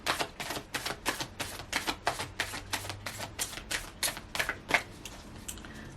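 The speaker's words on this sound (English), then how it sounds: "I'm going to do one more shuffle." Cards riffle and snap in a fast, steady run of crisp bursts, close by, with no talking.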